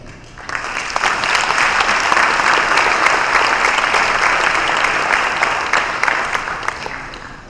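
Audience applause fills a school hall of fame induction ceremony, a dense, steady wash of many hands clapping that holds at full strength for about seven seconds before easing slightly at the end.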